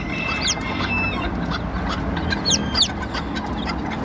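Bantam and quail chicks kept alongside white leghorn chicks give high, thin peeps and chirps that repeat over a steady, noisy background.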